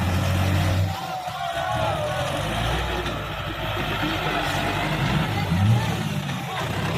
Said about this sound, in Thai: รถไถป๋าตุงครับ